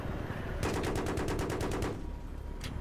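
A rapid burst of automatic gunfire in Battlefield 3, about a dozen evenly spaced shots lasting over a second, followed by a single later shot over ambient game noise.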